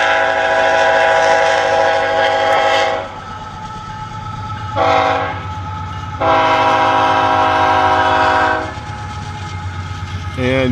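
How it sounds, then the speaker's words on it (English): A train rumbles past nearby with a steady low roar and clatter, sounding its horn in several long blasts. "Oh man, there's a train. I'm sure you guys can hear the train."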